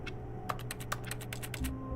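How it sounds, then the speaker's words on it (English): Keyboard typing in the video game The Stanley Parable Ultra Deluxe, a quick burst of crisp clacking keystrokes in the middle of a quiet room tone, fairly faint. "Got really spooked by the typing noises."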